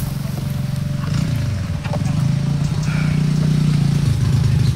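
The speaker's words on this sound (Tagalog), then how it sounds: "ayan tol, may motor naman na dumaan tol" A motorcycle engine drones steadily at close range on a rural Philippine path, its low rumble swelling after the first second and holding loud and continuous to the end, with no talk over it.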